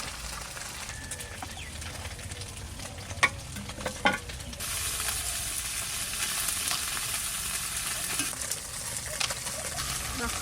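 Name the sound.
fish frying in a pan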